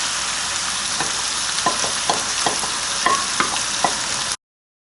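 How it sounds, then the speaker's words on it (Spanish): Seasoned tomato purée sauce with bacon, garlic and onion bubbles in a pan for walnut spaghetti, a constant close sizzle broken by soft popping bubbles at an uneven pace, with no voices. "la salsa ya está como, digamos, hirviendo o sacando burbujitas, pero ya de todos lados"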